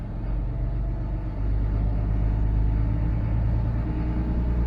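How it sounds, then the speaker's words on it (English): A boat's engine rumbles steadily and loudly close by, its deep drone rising a little as the throttle is opened, with no voices over it. "We're going to start it up. We're going to give it a little throttle."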